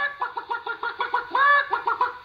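Chickens cluck in a quick rhythmic series of short calls, close and clear, with one longer squawk in the middle.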